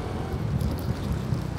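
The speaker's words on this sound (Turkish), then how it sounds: "Çünkü ara ara çok rüzgar var." Strong wind buffets a phone microphone outdoors, a dense low rumble that roars on without a break for the whole moment.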